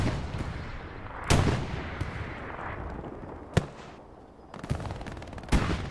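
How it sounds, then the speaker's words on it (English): Rockets and gunfire in the World War II shooter Hell Let Loose, on the Purple Heart Lane map: rumbling explosions and rattling shots, with sharp loud blasts near 1.3, 3.6 and 5.7 seconds over a steady battle din. "More rockets coming in, going towards the trench here."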